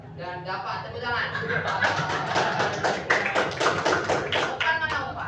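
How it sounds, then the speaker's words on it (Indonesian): A classroom of students claps in a ragged burst of applause, close and fairly loud, mixed with chatter, laughter and voices talking over the clapping throughout. "dan Dapat, tepuk tangan."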